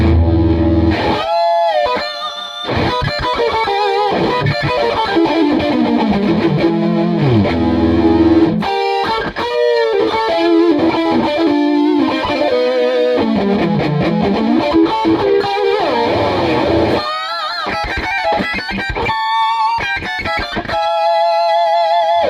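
An AmpliTube harmonizer effect on a distorted electric guitar plays a continuous melodic line with gliding bends and layered harmony voices, loud and unbroken.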